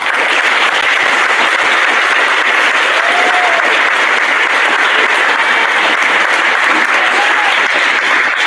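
Steady, dense audience applause filling a high school awards ceremony, loud and unbroken throughout with no voices over it.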